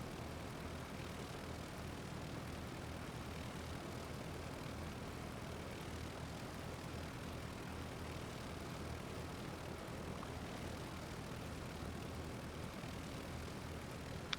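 Steady, continuous propeller-plane engine drone of a Piper Arrow in a flight simulator game at takeoff, holding an even loud level throughout with no voices.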